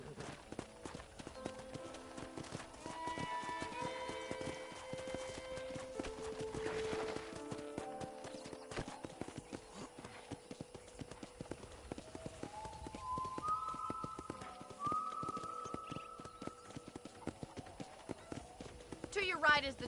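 Horse hooves clip-clop in a steady trotting rhythm in the video game Red Dead Redemption, joined by soft musical tones and a person talking over the top.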